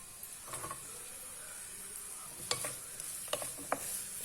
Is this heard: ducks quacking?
no